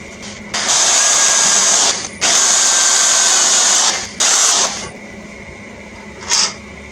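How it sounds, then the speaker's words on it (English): A power drill whirs loudly in three bursts, a long run, a second long run and a short one, then a brief final spurt after a pause, drilling a hole in metal on a mower hitch. "Got to drill a hole here,"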